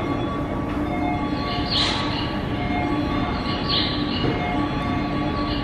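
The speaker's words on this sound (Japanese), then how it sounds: "回送電車が到着いたします。" A Tokyo Metro 13000 series out-of-service train pulls into a Hibiya Line station platform, a steady loud rumble of wheels and running gear with brief higher squeals of brakes or rails along the way.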